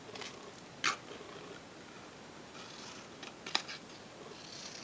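Scissors cut paper for an origami rose stem, giving two or three brief, crisp snips close by in a quiet room, with no talking.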